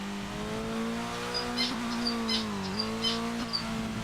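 Race car engines in the ToCA Race Driver DTM racing game, a steady droning whine that shifts pitch as the cars change gears, with faint squeals over the top, moderately loud and constant.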